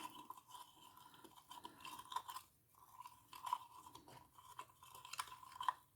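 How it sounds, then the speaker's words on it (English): A small cinnamon stick stirred through oil in a container for a Samhain oil blend, producing soft, quiet scraping and light clicking strokes in an irregular rhythm, close up and alone. "grab the little cinnamon stick, and just give that a really good stir"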